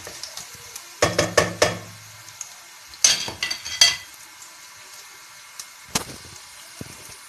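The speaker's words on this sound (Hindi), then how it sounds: "लहसुन को भी हल्का सुनहरा होने तक इसको फ्राई करेंगे" Garlic frying in a pan until lightly golden, heard as bursts of stirring and scraping over a soft sizzle, with quieter gaps between the strokes and no talking.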